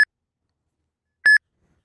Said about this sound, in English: Your phone will start beeping, and the screen will flash.